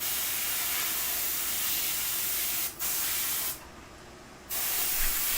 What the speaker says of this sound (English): now I'm getting a little more drama back in the face with putting in some airbrush shadows